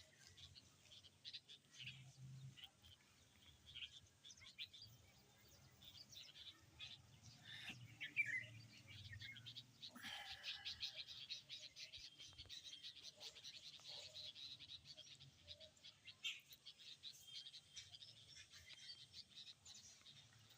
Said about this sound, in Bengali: চারিদিকের পাখির আওয়াজ হচ্ছে,